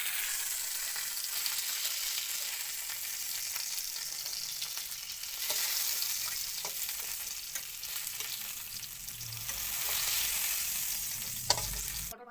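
Sliced pointed gourd (potol) frying in hot oil in a pan gives a steady, close hiss and sizzle that carries on for the whole stretch, with occasional clinks and scrapes from stirring.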